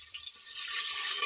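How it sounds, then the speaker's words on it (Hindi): Water poured into onion and tomato masala in a cooking pan, a short hissing splash and sizzle that rises midway and stays bright and close. "अब मैं थोड़ा सा पानी डाल के ना इसको"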